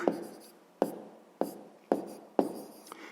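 Pen strokes on paper while a maths answer is written out by hand, five sharp taps spaced about half a second apart, each trailing into a short scratchy stroke, close and quiet with no talk.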